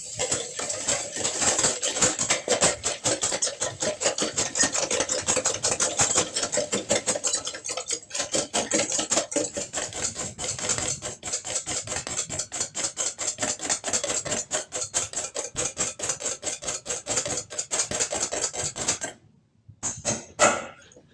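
A single egg white being whisked in a bowl for shrimp batter, a rapid, continuous metallic ticking of whisk against bowl that runs steadily and loudly, then stops abruptly near the end.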